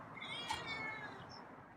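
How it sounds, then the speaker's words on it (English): A feral cat meows once, brief and fairly quiet, over a low background hum with no other sounds. "Now you're meowing."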